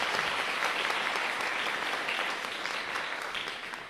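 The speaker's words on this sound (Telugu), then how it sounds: "దేవునికి గట్టిగా చప్పట్లు కొట్టండి మనందరం కూడా" A church congregation at a Catholic service claps loudly and continuously in praise of God, a dense, steady wash of applause from many hands that fades slightly toward the end.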